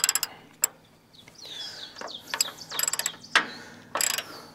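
A ratchet wrench tightens a bolt on a Woodland Mills HM126 sawmill, giving several close bursts of rapid clicking pawl strokes separated by pauses and small metallic scrapes, with no talking.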